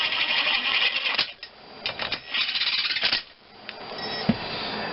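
Engine main bearing cap bolts are run down with a ratcheting tool in several quick bursts of clicking, with short pauses between them and a single metallic clink near the end.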